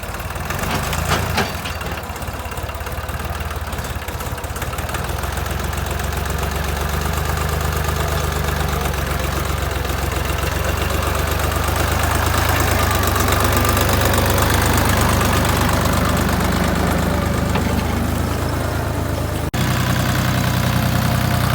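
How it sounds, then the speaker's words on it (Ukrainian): A small tractor's engine runs steadily before heading out to a garden plot, a loud continuous low rumble with a knocking beat that holds throughout, close by and alone, with a brief thump near the end. "заводимо тракторця і їдемо на город"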